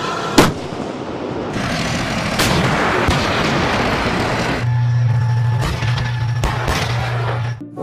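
Toy steel tank firing sound effect, loud booming blasts and rumbling bursts, a sharp bang at the start followed by sustained rough explosive noise and further pops, with no talk.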